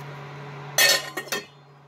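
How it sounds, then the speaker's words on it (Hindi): A lid is set onto a cooking pot of oil-free okra sabzi, giving two or three sharp glassy clinks in quick succession against a quiet kitchen hum. "अब मैं इसका ढक्कन लगा दूंगा"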